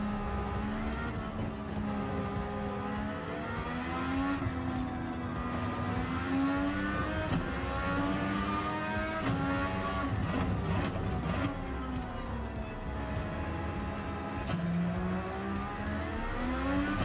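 Formula 1 car engine in Gran Turismo 7 screams continuously, climbing in pitch as the car accelerates and dipping at each upshift. Faint tire squeal sits under the loud, close engine drone.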